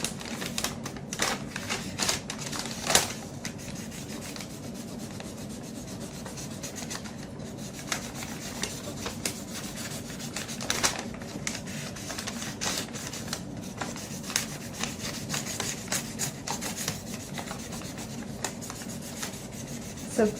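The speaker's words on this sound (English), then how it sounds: "So see, I've started coloring green on the inside on the sides of the bag." A marker scratches and rubs steadily across a paper bag as green is colored onto its inner sides, a dry continuous scribbling with quick repeated strokes, close up and without talk.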